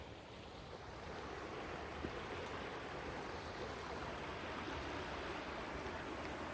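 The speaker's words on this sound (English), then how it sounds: "I hear water, Frank." Steady, distant rush of flowing water near a waterfall in a forested area, a continuous broadband wash with faint wind noise and no talking.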